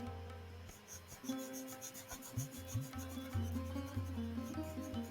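Paint is rubbed into the turquoise-gray background of a painting, a quiet scratchy rubbing texture under a steady low hum.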